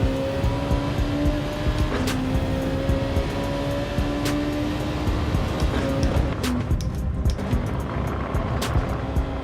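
A Honda NSX sports car engine drones steadily in a racing game, a continuous loud motor hum with shifting pitch and brief clicks as the car drives on.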